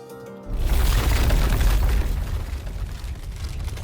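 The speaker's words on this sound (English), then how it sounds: "Crystals erupt from the ground." Crystals burst up from the ground in the game Nikke: Goddess of Victory, a sudden deep boom after a brief quiet moment, followed by a rumbling, crackling roar that slowly tapers off.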